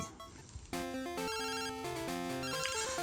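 Pokémon Crystal's chiptune phone-call ring chirps in a quick stepped melody of bright, clean electronic tones after a brief quiet start, playing alone at moderate volume.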